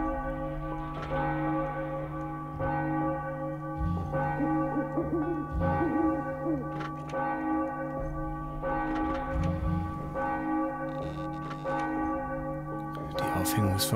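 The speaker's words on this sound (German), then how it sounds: "doch die Glocke schlägt unermüdlich weiter" A broken, rust-eaten church bell tolls repeatedly in the game Enigmatis: The Ghosts of Maple Creek, with loud ringing strikes every couple of seconds over a sustained, humming resonance.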